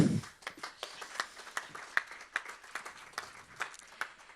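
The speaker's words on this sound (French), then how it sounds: "On peut t'applaudir aussi." An audience at a conference on circular economy applauds, with scattered, moderately distant hand claps ringing out in an uneven, sparse rhythm for about four seconds.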